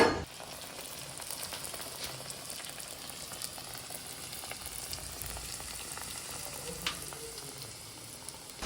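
Puri deep frying in hot oil, a steady close bubbling sizzle that runs unbroken with small crackles and pops and no talking.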